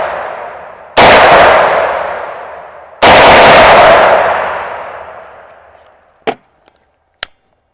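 A Beretta PMXs semi-automatic submachine gun fires two loud single shots on a shooting range, each ringing into a long echoing tail, followed by two light metallic clinks.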